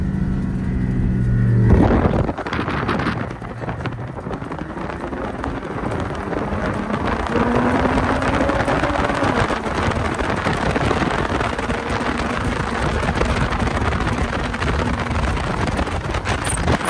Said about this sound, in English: Still wind going through here, so it's easier for the dust, it just blows off that way.